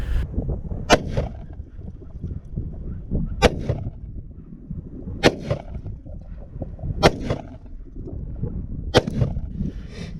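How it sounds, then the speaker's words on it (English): Five 357 Magnum 130-grain Hydra-Shok jacketed hollow points fired from a Taurus revolver at a windshield, outdoors: sharp, distant-sounding reports spaced roughly two seconds apart over steady low background rumble. "we're going to try out the 357 Magnum 130 grain Hydra Shock jacketed hollow points for my Taurus 38"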